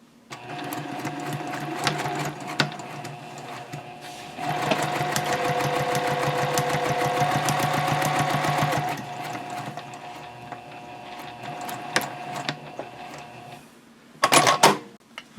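A Juki TL 2010Q sewing machine stitches fabric for a nested basket at stitch length 3.0. Its rapid, even needle rattle runs for several seconds, loud and close, then stops, leaving softer handling noises and a brief burst near the end.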